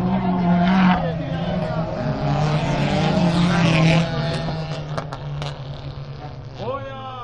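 Front-wheel-drive autocross race cars roar through a final heat, engine noise loud and continuous with tire squeal and skidding, under an excited commentator's voice.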